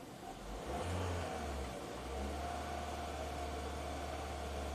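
A Ford EcoBoost engine runs rough and rich, a low steady mechanical drone with slight surging, heard faintly and continuously without talk.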